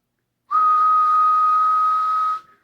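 A single steady, high whistle tone held for about two seconds, clean and loud, starting and stopping abruptly as heard through an Uniden Madison base station CB radio.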